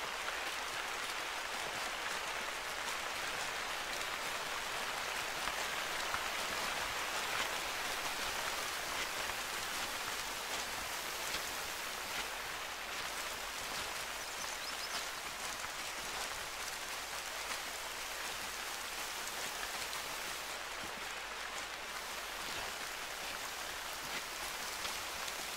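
Steady rain falls in the hunting game theHunter: Call of the Wild, a continuous even hiss of drops on surfaces with no breaks, moderately quiet and alone throughout.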